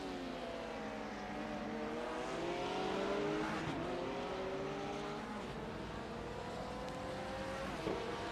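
A BMW and a Porsche race car roar around the Laguna Seca circuit in a sim racing game, engines rising and falling through gear shifts as they pass close together, loud and continuous with no talk.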